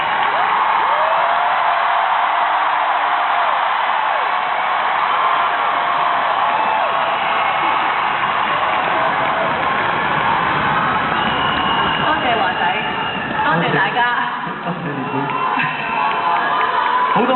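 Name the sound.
concert audience cheering and applauding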